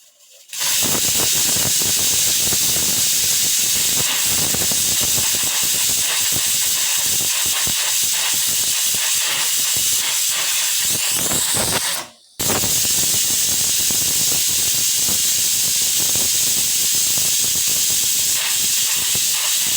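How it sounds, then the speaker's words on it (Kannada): A pressure cooker cooking avarebele sambar lets out a loud, sustained steam whistle lasting about twelve seconds, breaks off for a moment, then starts again just as strongly. "ಇವಾಗ ನಾನು ಲಿಡ್ ಮುಚ್ಚಿ ಎರಡು ವಿಷಲ್ ಹೊಡಿಸ್ತೀನಿ"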